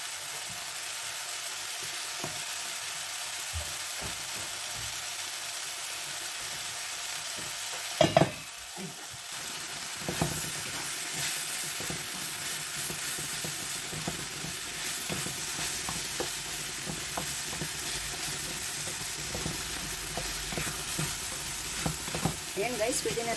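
Strained tomatoes stirred into eggplant frying in a pan, with a steady close sizzle and intermittent stirring scrapes, plus a brief sharp clatter partway through.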